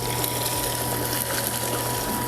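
Homebrewed Belgian dubbel wort pours steadily into a fermenter, a continuous close gush of liquid under a low steady hum, with no pauses.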